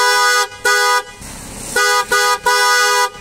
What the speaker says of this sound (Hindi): अब अगर एक बार आपकी कार पार्क्ड है तो आपको हॉर्न की कैसी आवाज़ आएगी?